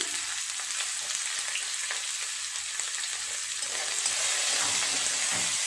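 Finely chopped onion fries in oil while being stirred, a continuous close broadband sizzle with faint scraping underneath and no voices.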